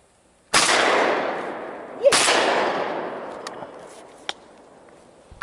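A hunting gun fires outdoors during a bird hunt: two sharp, loud shots about a second and a half apart, each with a long echoing tail that fades into quiet.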